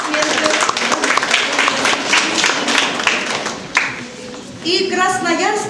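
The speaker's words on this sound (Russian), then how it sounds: "Под ваши бурные аплодисменты." Lively audience applause at an art exhibition opening, brisk clapping under a speaking voice, fading briefly before a burst of chatter and voices near the end.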